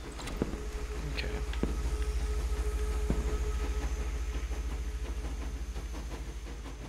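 A toy train set runs on the ground in a horror video game, giving a steady, rhythmic mechanical chugging with faint clicks over a low droning hum.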